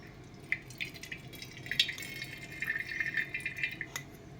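Rice washed in hot water for traditional rice papad, with soft drips, trickles and light splashes of water in a sink, fairly close and continuous, no voices.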